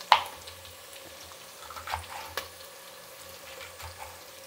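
Green chillies, curry leaves and onions fry quietly in a pan with soft sizzling and a few stirring clinks, a faint steady background sound with no one talking.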